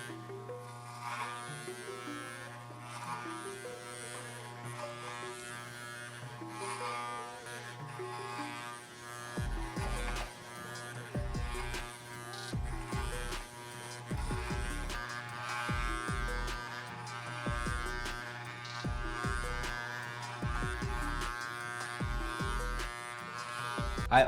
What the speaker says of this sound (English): run the clipper through it